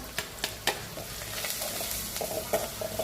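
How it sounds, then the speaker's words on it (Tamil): Onions frying with curry leaves, chilli powder, turmeric, salt and asafoetida in a pan, a dense close sizzle broken by a few sharp stirring scrapes of a spoon, no talk. "வெங்காயம் கொஞ்சம் பாதி வதங்கிட்டு இப்போ கொஞ்சம் கருவேப்பிலை போட்டுக்கலாம்."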